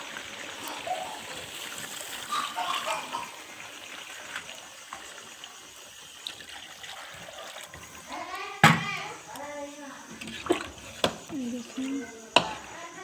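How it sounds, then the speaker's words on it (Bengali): Water poured into a pot of well-fried meat curry brings splashing and bubbling with clinks of a utensil, close by, and the sound grows stronger toward the end. "এবার আমরা দিয়ে দেবো পরিমাণ মতন জল।"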